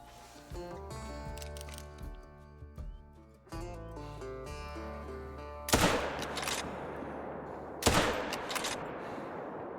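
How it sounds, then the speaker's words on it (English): Two loud, sharp gunshots ring out about two seconds apart during a night raccoon hunt, over steady background music. "I'm not sure we made too good of shots there"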